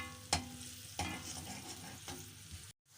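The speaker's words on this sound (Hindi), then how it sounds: "जैसे ही लहसुन आपका लाइट ब्राउन होना शुरू हो जाए" Garlic frying in oil in a pan, a soft steady sizzle punctuated by three sharp stirring clinks, quiet and close, cutting off abruptly at the end.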